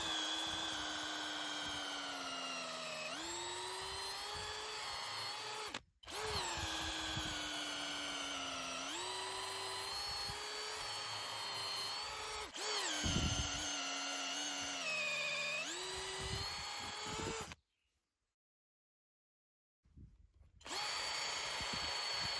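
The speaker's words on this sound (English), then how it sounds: "Let's try drilling with this massive drill bit, 14mm." A Parkside Performance C4 cordless drill on speed 2 bores with a 14mm bit in long, loud, whining runs, its pitch dipping under load, with brief pauses and a gap of silence before it starts again.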